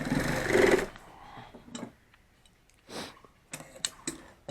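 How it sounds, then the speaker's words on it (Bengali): Stitching to mend a torn bag at home, heard as a short, close, whirring burst of sewing followed by sparse, quiet clicks and rustles of fabric. "জাস্ট এইভাবে সেলাই করে দিতে হবে।"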